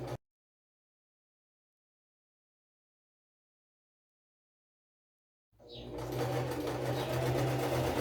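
A sewing machine stitches a seam, starting after a long silence and then running steadily and loudly near the microphone until the end.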